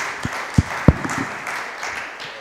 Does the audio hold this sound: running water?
no